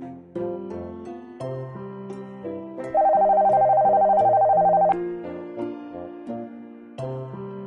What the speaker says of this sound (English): You want to call your friend on your massive phone to get some veggies?